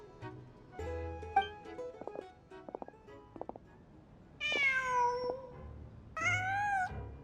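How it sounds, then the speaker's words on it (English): A cat meows in Genshin Impact: quiet chirps and clicks first, then two loud, drawn-out meows close by, with no voices. "Just a cat."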